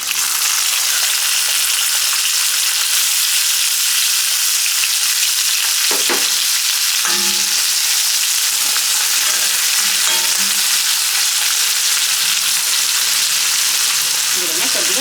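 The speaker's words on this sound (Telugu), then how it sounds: "నూనె వేడెక్కిన తర్వాత ఆవాలు, జీలకర్ర ఇవి కొద్దిగా వేగిపోయిన తర్వాత కట్ చేసి పెట్టుకున్న ఉల్లిపాయ," Onion, curry leaves, mustard seeds and cumin fry in hot oil, giving a steady, loud, broadband sizzle throughout, with a few brief stirring clatters near the middle.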